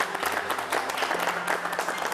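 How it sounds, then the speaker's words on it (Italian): Audience applause at a Miss Pomezia 2017 pageant evening as a contestant is brought on, a short burst of fairly faint, scattered clapping from a crowd. "la nostra Francesca Angioletti, facciamo un applauso."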